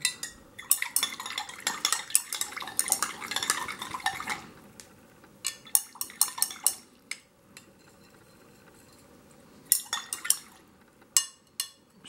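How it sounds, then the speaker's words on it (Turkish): A spoon stirs IBA rooting powder into water to dissolve it, making bursts of close metallic clinks and scraping against the container, with quiet gaps between, and no talking. "Daha sonra güzelce karıştırıyoruz. Burada tozumuzun iyice erimesi gerekli."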